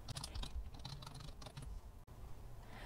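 Quick, soft clicking of a computer keyboard as a slide title is typed in a presentation program, a close, faint flurry of keystrokes with a brief pause near the end.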